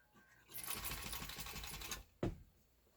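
An Atlas straight stitch sewing machine runs in a fast, even mechanical chatter for about a second and a half, then stops with a single sharp clunk afterward, close and fairly loud.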